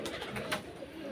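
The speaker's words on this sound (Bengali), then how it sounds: "এই যে টুর্নামেন্টে খেলা পায়রা, কাঁচিপিলি একদম" Punjabi Malwai tournament pigeons coo softly nearby, a brief low murmuring call over quiet background hiss.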